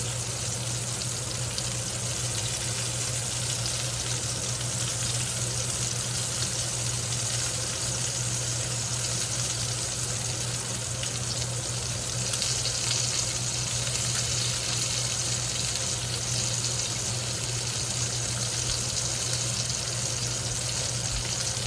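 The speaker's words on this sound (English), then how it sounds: "I just want you to hear the sound of sizzle." Steady, dense sizzling of quail and onions frying in a hot pan, continuous and close with a constant hiss and a low hum underneath.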